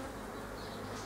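Honeybees hum in a dense, steady drone at a spring hive being worked, close and continuous, with no voices.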